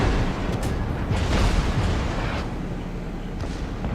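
Heavy warship gunfire in World of Warships, with deep booming blasts rolling into one another over a continuous low rumble of naval battle, loud and close, with no talking.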